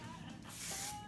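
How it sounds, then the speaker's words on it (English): Hairspray is sprayed onto sticky hands while styling an updo, giving a soft, steady aerosol hiss that lasts about half a second and stays close but quiet. "That's when you're gonna spray your hands with your hot armor."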